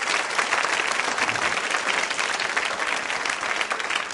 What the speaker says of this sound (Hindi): तालियां जोरों से बजाइए उनके लिए आप।